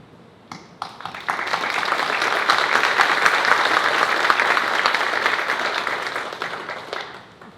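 An audience bursts into sustained applause, many hands clapping together, swelling quickly and then tapering off near the end.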